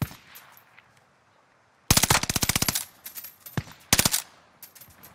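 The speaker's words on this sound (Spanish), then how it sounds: "Alguien más le está disparando" Bursts of automatic gunfire in Call of Duty: Modern Warfare, a long rapid burst followed by a shorter one and a few scattered shots after a quieter stretch of faint ambient rumble.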